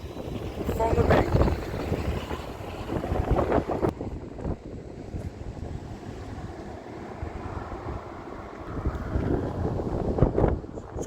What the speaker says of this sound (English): you might hear the wind blowing on the camera